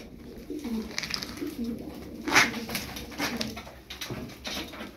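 Mardin tumbler pigeons coo in a loft of about fifteen freshly bathed birds, low soft calls rising and falling over a few seconds with some faint shuffling and bird noise around them.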